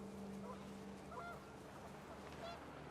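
Panicked geese honk in a scene from the video game What Remains of Edith Finch, with a few short, faint calls over a low windy backdrop.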